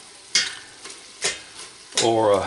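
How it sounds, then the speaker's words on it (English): Sausage sizzles as it browns in oil in a pot for jambalaya, with short stirring scrapes and bursts of frying that swell into a loud sustained sizzle at the end, with no talking. "It's sizzling on the bottom."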